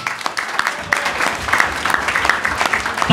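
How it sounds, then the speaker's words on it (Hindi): Loud, steady applause from a large audience at a festival awards ceremony, dense clapping sustained throughout with a faint voice briefly underneath. "तो जितनी ज़ोरदार तालियों से हो सके ये जो अगले तीन नाम हैं, शोएब अख्तर,"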